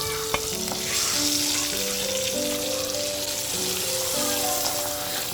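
Oil sizzles and crackles steadily as dried seer fish fries, with a faint melodic tone running underneath.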